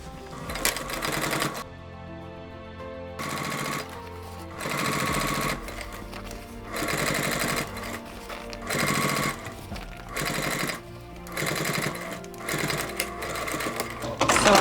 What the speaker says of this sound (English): it's easier to sew until 1/2 inch from the edge, then I stop